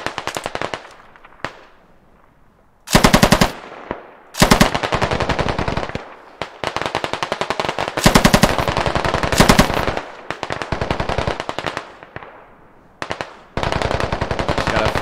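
Machine gun fire in a 40 vs 40 squad-based realistic shooter game, long loud rapid bursts of automatic rounds repeating close up, separated by brief pauses and a few distant echoing shots.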